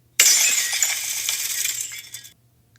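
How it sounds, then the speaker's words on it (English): A glass display case is knocked over and shatters on the floor of a dark room, giving a sudden loud crash followed by about two seconds of bright tinkling shards that scatter and fade. "Glass shattered all over the ground."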